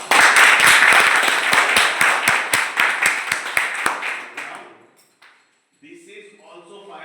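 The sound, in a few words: loud applause from training participants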